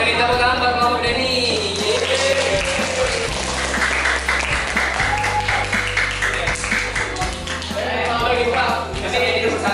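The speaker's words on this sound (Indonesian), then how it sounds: "Beri tepuk tangan buat Mama Denny." A classroom of students applauds loudly, continuous clapping filling the whole stretch with voices mixed in underneath.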